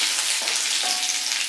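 Finely chopped garlic frying in hot oil for a potato curry, a close, continuous sizzle with a faint stirring scrape partway through and no speech.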